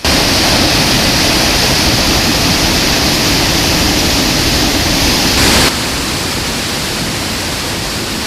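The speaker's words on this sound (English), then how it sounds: "From a loud, noisy waterfall" A loud waterfall in Norway roars as a dense, continuous wash of rushing water, close and steady, with a slight drop in level near the end; no voices.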